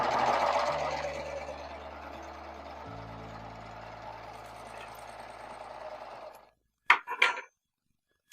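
A home sewing machine stitches a seam on a scrappy bowtie quilt block, running steadily for about six seconds with a shift in its hum partway through, then stopping, followed by a few brief handling clatters.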